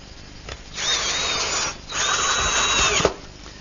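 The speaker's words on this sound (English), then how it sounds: "secure it with a screw" A power drill drives a screw into wood to secure a wooden flagpole piece in a woodworking shop: two close, loud whirring bursts of about a second each, the second ending in a sharp tightening snap.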